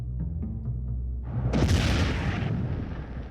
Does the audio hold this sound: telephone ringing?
no